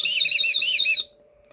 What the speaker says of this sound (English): So it's a spork whistle.